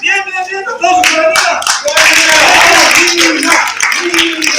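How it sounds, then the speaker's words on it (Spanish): Audience at a freestyle rap battle clapping for Nina, sharp rhythmic hand claps building into a dense round, with people shouting and talking over it. "Aplausos para"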